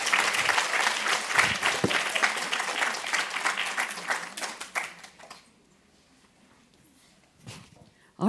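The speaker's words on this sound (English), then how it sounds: "I think they all deserve a big round of applause" A crowd applauds the speakers at a gathering, steady dense clapping for about five seconds that fades out into near silence, with a brief faint patter near the end.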